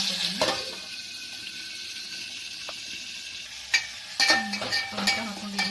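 Tomato sizzling in a hot pan with green chillies and curry leaves, a steady frying hiss broken by sharper bursts of crackle and stirring near the end.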